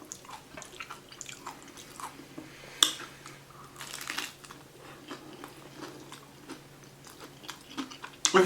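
A crunchy Subway vegan taco being bitten and chewed close up, with sharp crunches and soft mouth sounds at an irregular pace, no talking.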